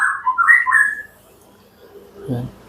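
An oriental magpie-robin (murai batu) in care for mental drop, a close, loud burst of bright whistled song phrases for about a second, then quiet with a brief low voice-like sound near the end.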